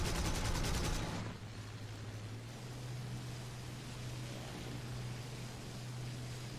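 Aircraft machine guns fire in an arcade air battle in War Thunder: a dense, rapid burst for about a second, then a steady engine drone with broadband rushing noise.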